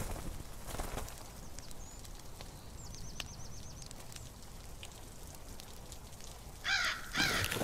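Crows cawing in the survival shooter Zero Sievert, a couple of harsh caws rising near the end over a steady, noisy ambient game backdrop, fairly faint at first and louder at the close.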